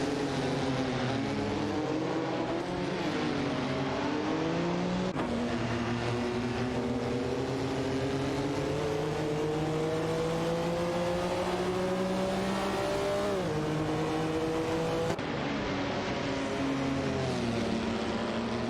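Race cars, including a Dawa 962 LM, battle closely on track in a racing video game, with loud sustained engine drones rising and falling in pitch as gears shift, two engines overlapping throughout.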